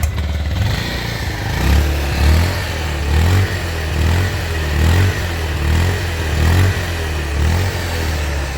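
A used commuter motorcycle engine idles and revs close by, a steady low thumping throb with periodic swells of acceleration every second or so, mechanical clatter underneath and no talk.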